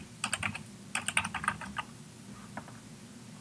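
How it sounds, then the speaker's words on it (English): SQL code is typed on a computer keyboard: two quick bursts of crisp, close key clicks, then a few scattered taps. "where I can actually type in my SQL a little bit better"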